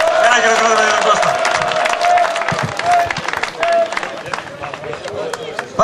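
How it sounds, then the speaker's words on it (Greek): Crowd applause and cheering for a football player at a Trikala club celebration marking promotion to the A' Division, steady dense clapping through the whole stretch with a loudspeaker voice and background babble over it. "Ένα χειροκρότημα για τον Κώστα."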